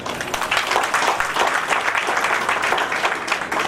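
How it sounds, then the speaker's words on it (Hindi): Steady, dense applause from a gathered audience at a wedding ceremony, loud and continuous throughout with no pauses, close to the listener. "फिर से एक बार तालियां"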